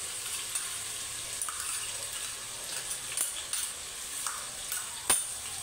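Ground green chilies dropped into a bowlful of hot oil fry with a soft, steady sizzle and occasional sharp crackles and clinks, close and fairly quiet, no one speaking.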